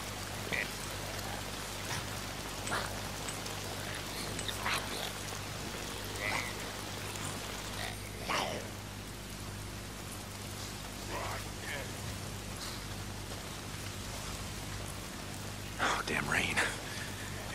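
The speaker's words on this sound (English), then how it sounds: "Why is it always raining?" Steady rain falls in the open-world zombie game Days Gone, a soft continuous patter on surfaces with scattered louder drops, quiet and alone under a low constant hum.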